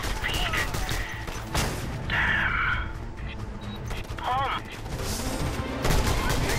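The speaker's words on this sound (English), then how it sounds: "That mission was far too easy with a fully upgraded rocket launcher." Weapon fire and explosions from a fully upgraded rocket launcher in the video game Just Cause 2, with a steady barrage of booms and blasts running through the whole stretch over a dense action soundscape.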